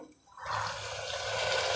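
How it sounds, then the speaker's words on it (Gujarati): Half a bowl of water pours into a sizzling guava and potato curry, a short, close rush of liquid that starts abruptly and holds steady. "અડધો બાઉલ પાણી નાખશું"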